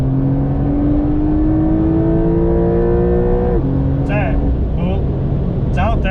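A Porsche 911 Carrera 4 (992, 385 hp) accelerates hard, its engine note climbing steadily through the revs before a gear change, then pulling again under loud cabin noise with people speaking.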